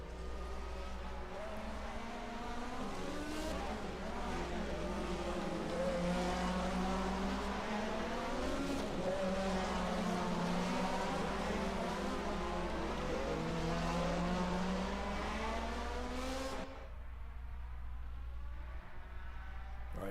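1980 touring race cars in the ISO DRM Division 2 round at the Mainz-Finthen airfield circuit roar continuously, several engines layered with rising and falling pitch as they pass, loud and steady until the noise thins near the end.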